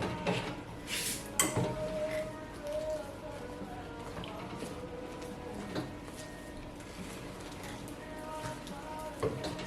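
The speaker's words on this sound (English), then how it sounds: "Stir it well." A spoon stirring vanilla paste into a damper mixture in a bowl, with scattered clinks and scrapes of utensil against the dish, near and irregular, alongside faint background voices.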